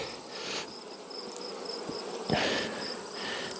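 Honey bees drone steadily at a hive with screened bottoms, a close, continuous buzzing hum with a few brief louder passes as single bees fly near.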